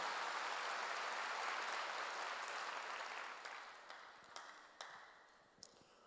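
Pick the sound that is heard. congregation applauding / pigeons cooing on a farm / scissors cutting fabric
congregation applauding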